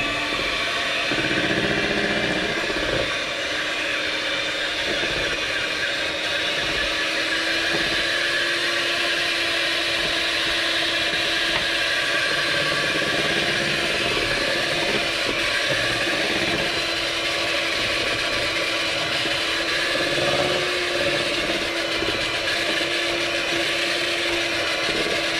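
Carrot cake batter is mixed with a continuous mechanical whirring drone that runs evenly and fairly loud throughout, with no talking over it.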